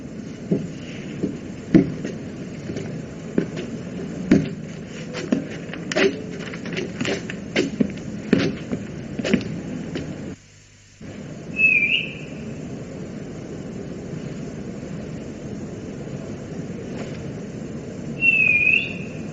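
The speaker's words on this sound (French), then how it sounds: "Vous avez sifflé 2 fois à 6 secondes d'intervalle." Two short whistles, several seconds apart, sound faintly over a background of rustling and scattered knocks.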